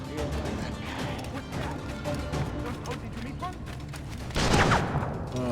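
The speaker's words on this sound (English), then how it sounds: "Oh my gosh, they're shooting at us." Enemy gunfire rattles in a busy fight in Assassin's Creed Freedom Cry, a steady stream of shots and impacts under game music, with a louder burst of blasts near the end.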